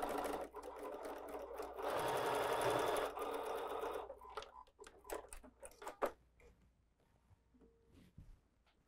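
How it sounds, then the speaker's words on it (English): A sewing machine stitching a quilt seam at a quarter-inch allowance runs in a fast, steady mechanical whir for about four seconds, then stops, followed by light fabric handling and clicks. "Now I'm gonna go ahead and sew from this side so I can keep an eye on that seam."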